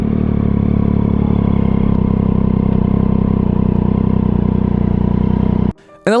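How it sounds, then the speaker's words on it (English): A Triumph 675cc three-cylinder motorcycle engine runs loud and steady for several seconds with a dense, even mechanical drone, then cuts off abruptly near the end, leaving a short faint tail. "The Triumph 675 Triple is still such a nice engine"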